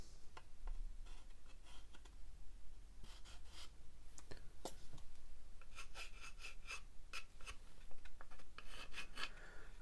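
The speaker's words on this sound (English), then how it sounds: "once we start to rub these things, they rub away quite easily" Faint, quiet rasping and rubbing as paint is worn away on a 1/35 scale Tamiya M4 Sherman early tank model, a series of short scratchy strokes and small ticks close up.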